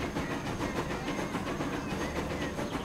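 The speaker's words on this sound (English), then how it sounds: "Let's run along with this train now." A train in the Transport Fever video game runs along the track with a steady rolling rumble and rhythmic clickety-clack of wheels, moderately loud and continuous without talk.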